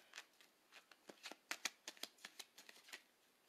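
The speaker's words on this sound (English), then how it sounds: "I just want to pull a few cards." Oracle and tarot cards being shuffled and pulled from a deck, a quiet run of crisp flicks and riffles in uneven bursts, close up and alone with no talking.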